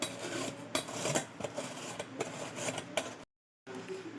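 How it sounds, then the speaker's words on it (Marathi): Bottle gourd scraped into long shreds on a kitchen grater, a close rasping series of uneven strokes with a short silent break near the end. "भोपळा मस्त आपण लांब सडक किसून घेणार आहोत"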